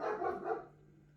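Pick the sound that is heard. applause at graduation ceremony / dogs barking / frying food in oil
dogs barking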